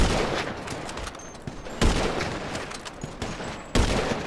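Gunfire in the video game GTA 5 during a sniper race, with bursts of shots and sharp loud reports cracking over a continuous noisy game background, some impacts standing out sharply.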